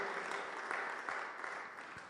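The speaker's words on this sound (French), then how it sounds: "let's give the Lord a clap offering" A church congregation claps in praise of the Lord, a soft, steady wash of hand claps that sounds fairly distant and low in level, continuing evenly without a break.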